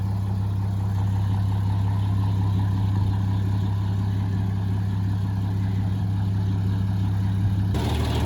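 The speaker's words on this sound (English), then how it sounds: "she's wanting to idle at the moment" A 1945 Studebaker US6 truck engine, after a carburetor rebuild, idles steadily with a low, even drone, close by and unchanging, briefly shifting pitch right at the end.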